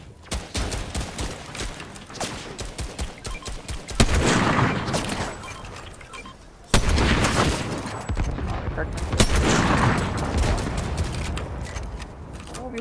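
Rapid bursts of gunfire in a Fortnite match, including distant sniper shots, crack repeatedly over busy game sound while players talk throughout.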